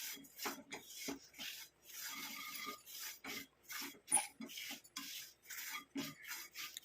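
Powdered amla is stirred and roasted in a pan, making a dry rasping scrape in uneven, repeated strokes with brief pauses, close and fairly quiet, and no one talking.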